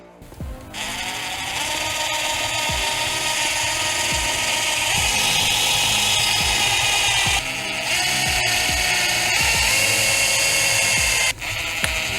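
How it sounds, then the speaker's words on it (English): A high-pitched rotary tool whines steadily while drilling through a plastic scale drift car body, with brief pauses and small clicks and knocks as it bites and shifts. "I'm gonna come in directly on the corner and drill straight through"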